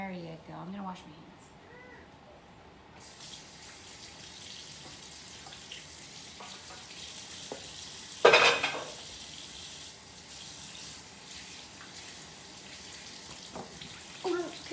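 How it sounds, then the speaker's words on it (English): A kitchen tap runs steadily for handwashing while cooking a roasted pork loin, a faint continuous water hiss beneath intermittent voices, with a brief louder splash partway through. "I'm gonna wash my hands."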